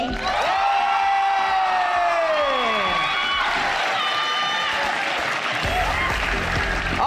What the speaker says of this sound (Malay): Tepukan untuk Eco Genius